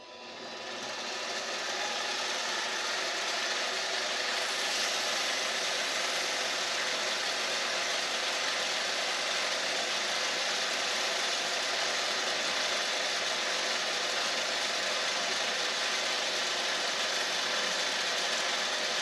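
A small electric motor spins an Edison phonograph shaft for polishing with 320-grit compound, running as a steady, continuous whir that rises in the first seconds and then holds even and close, with no voices.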